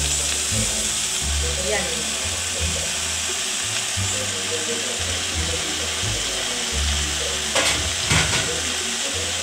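Vegetables fry and sizzle in a pan while cooking adobo with potatoes, a steady broadband hiss with occasional louder bursts as food is stirred, and a voice speaks briefly over it.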